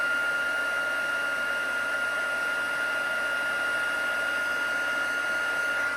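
Electric heat embossing tool warming up for cardmaking, a steady close whirring fan hum with a constant high whine, unbroken from start to finish with no talking.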